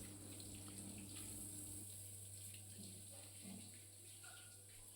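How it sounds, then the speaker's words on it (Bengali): A kitchen tap runs steadily as watermelon and cucumbers are washed beneath it, a soft continuous stream of water with faint splashing and a low background hum. "আর এই যে বাজার থেকে তরমুজ আর শশা এনেছিল তো এগুলো এখন মা ধুয়ে রাখছে"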